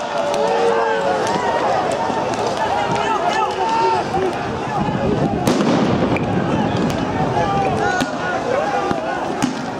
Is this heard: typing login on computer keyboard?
no